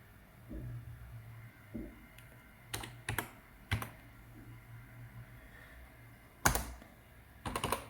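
Someone types on a computer keyboard to log in, a sparse run of clicky keystrokes and a few firmer key taps at irregular intervals, close and fairly quiet over a low background hum.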